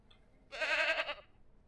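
A young goat kid bleats once in the Ranch Simulator video game: a single short, wavering, nasal bleat of about half a second, close and clear over a quiet background.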